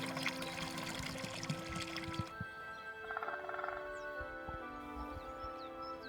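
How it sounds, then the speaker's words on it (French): Icy snowmelt water trickles steadily from mountain springs, seeping between rock fissures and forming small pools; the continuous watery flow runs throughout, with faint bird calls scattered over it. "l'eau du dégel forme de petites lagunes et s'infiltre entre les fissures de la roche, formant ainsi des sources d'eau glacée"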